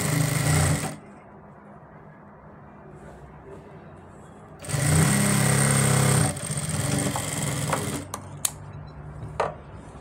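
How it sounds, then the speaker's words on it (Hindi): Sewing machine stitching the edge seam of a ladies pant with a pocket, running in two loud bursts of about a second each, separated by quieter handling and small clicks, with no talk. "अब हम इस पर किनारे की सिलाई लगाएंगे दोस्तों"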